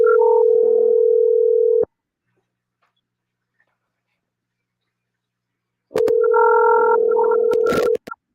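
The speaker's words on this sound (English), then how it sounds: "You guys can hear that ring." Telephone ringing tone while a call is dialed, two loud, steady ring bursts of about two seconds each separated by a four-second silence, with faint clicks at the end.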